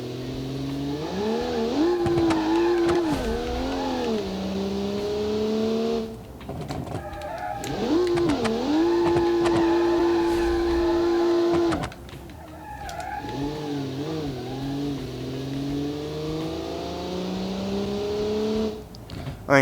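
Jupiter Turbo car in the Automation racing game accelerating on a test track, its engine revving up through three long pulls with rising and falling pitch, loud and up close, separated by brief drops in power.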